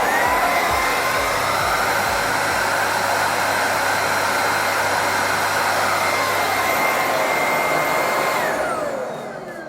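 A Bissell Icon 21V cordless stick vacuum cleaner from 2020 runs with a steady, loud whooshing motor roar for nearly ten seconds, then winds down at the end. No one speaks.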